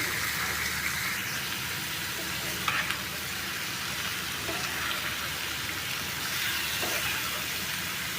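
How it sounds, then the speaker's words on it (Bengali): Potatoes frying in a wok for an egg and potato dish, a dense rain-like sizzle with stirring scrapes, loud and continuous with no talking. "এই তো আমি আলু ভাজিটা দিয়ে দিছি কড়াইয়ের মধ্যে"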